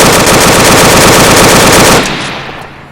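Machine gun fire at a jewelry store robbery: a loud, sustained, rapid burst of shots that cuts off abruptly, leaving a decaying echo and a few distant pops.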